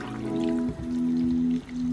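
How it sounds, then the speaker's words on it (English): Beef broth is poured over a bowl of bún bò Huế, the Vietnamese spicy beef noodle soup, on top of noodles, meatballs and beef shin. It is a steady close pour with a constant hum underneath. "And pour the broth right on top."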